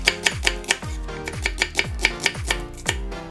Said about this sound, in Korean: 달큰한 양파 반 개 살짝 굵게 채 썰어